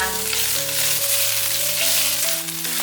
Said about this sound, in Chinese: 把香菇放进来。 把香菇炒香。